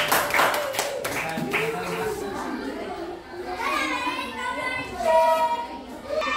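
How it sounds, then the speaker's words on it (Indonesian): A classroom group of children claps briefly for a student team, the quick burst of claps soon giving way to excited children's chatter and a teacher talking. "tepuk tangan untuk kelompok Indonesia"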